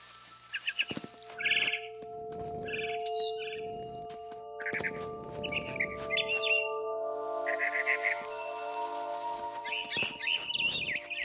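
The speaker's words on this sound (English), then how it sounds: "It was a barn swallow going back to her nest." A scared barn swallow in the video game What Remains of Edith Finch gives sharp, repeated chirps in short clusters over a sustained tonal musical backdrop with low rumbling effects.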